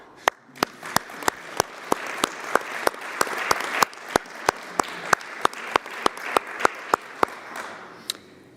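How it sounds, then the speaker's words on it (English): Audience at the Danubius Awards ceremony applauds with a steady, evenly spaced clap that rings out sharply above a softer wash of crowd clapping, continuing for the whole stretch. "we'll clap for him"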